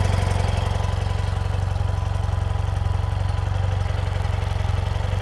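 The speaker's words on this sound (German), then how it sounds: "Hört euch mal an, wie schön der Motor noch läuft." A BMW R80 motorcycle boxer engine idles steadily and evenly with a low, regular pulsing beat, running continuously at close range with no other sounds.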